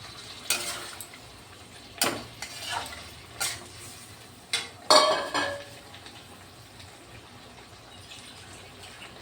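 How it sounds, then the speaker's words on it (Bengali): Fried potatoes and papaya go into a pot of home-cooked chicken curry, followed by stirring: a handful of sharp metal spoon scrapes and clanks against the pan at irregular intervals over a low background sizzle. "তারপর আমি আলু ভাজা আলু আর পেঁপেটা দিয়ে দিচ্ছি"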